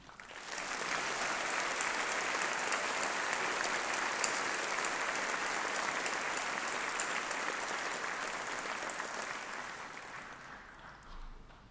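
Sustained applause from a large audience at a university graduation ceremony, steady and dense for about ten seconds before tapering off near the end.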